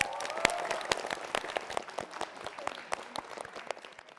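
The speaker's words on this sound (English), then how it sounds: "So let's give him a round of applause as well." A smallish audience applauds the judge at a student team competition, with scattered, uneven claps at moderate loudness that thin out toward the end.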